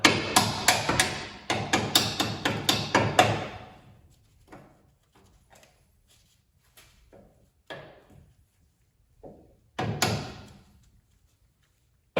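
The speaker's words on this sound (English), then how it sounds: "Give these a couple of taps with our rubber mallet." Rubber mallet taps ring out against a control arm on an 88-98 Chevy K1500 pickup, a quick run of close, sharp knocks followed by scattered single taps and one louder hit amid quiet.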